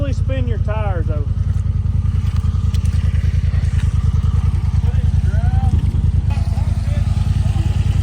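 A Honda Talon UTV on 4-inch portals and 38-inch tires revs loudly as it spins its tires while being pulled out of a hole, its engine droning steadily throughout with clatter and voices calling over it.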